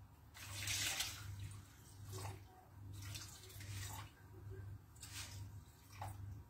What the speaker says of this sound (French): Je vais remettre mon eau chaude.